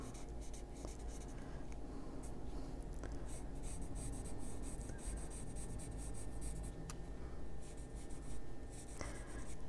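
Colored pencils on cardstock paper, a soft, steady scratching and rubbing of the lead as color is filled in, faint and close, continuing without a break.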